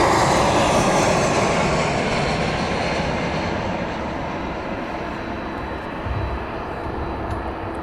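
A Ryanair airliner comes in to land at night at East Midlands Airport, its jet engines a loud, steady broadband roar that eases slightly as it passes, with no voices.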